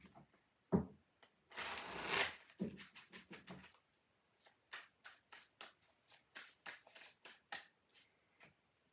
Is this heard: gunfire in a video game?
no